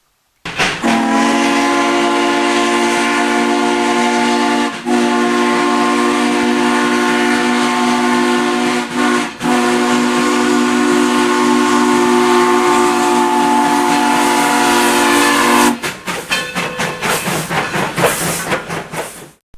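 A Great Smoky Mountains Railway steam locomotive whistle blows one long, loud, steady chord-like blast for about fifteen seconds, cut by two brief breaks, then ends and gives way to a short stretch of chuffing and rumbling.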